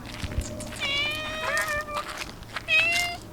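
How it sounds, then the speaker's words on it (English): A cat at a house in the Netherlands meows several times, drawn-out wavering cries close by over a quiet background with faint outdoor noise. "And there's a cat."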